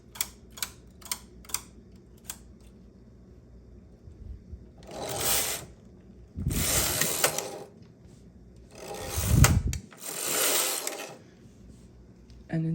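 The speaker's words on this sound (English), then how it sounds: "push all the needles to the front" Needle bed of a domestic knitting machine being worked by hand: a few quick light clicks at the start, then several longer rasping sweeps as the needles are pushed forward, close and fairly loud with no talking.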